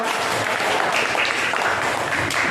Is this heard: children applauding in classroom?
yes